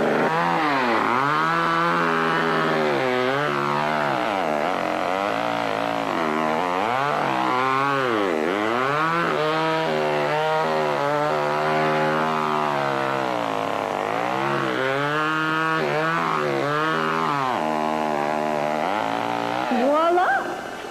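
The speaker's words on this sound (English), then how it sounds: "A chainsaw." A chainsaw carves a pumpkin-style Halloween face, its engine loud and close as it revs up and down in rising and falling waves for about twenty seconds.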